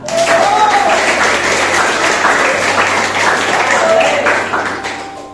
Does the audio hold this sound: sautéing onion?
no